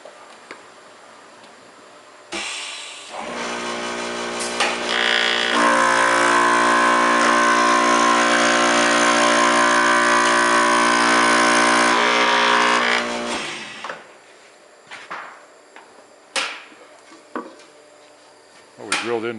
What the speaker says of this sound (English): Well, we drilled into our hole, but you can see how clean.